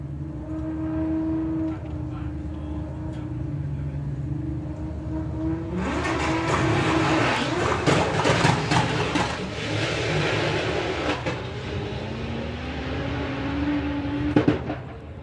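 A Volkswagen drag racing car launching at Santa Pod with its wheels spinning, a moderate engine drone building into a loud burst of noisy revving that carries on for several seconds, heard from a distance.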